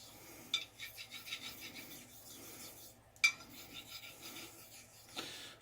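A straight razor is honed on an Arkansas whetstone, with quiet, soft scraping strokes of a blade across stone, a few faint rubbing passes with sharper clicks of contact in between, close but low in level and without speech.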